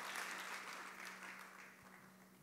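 Audience hands clapping at a women's conference gathering, a faint, steady patter of applause heard from a distance, fading slightly toward the end with no voices over it.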